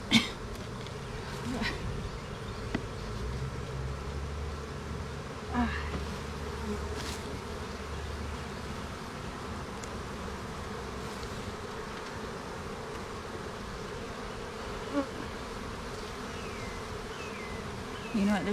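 Honey bees buzz steadily around an open hive, a dense continuous hum that holds at a moderate level through the whole stretch, with a few soft knocks and handling sounds and no talk.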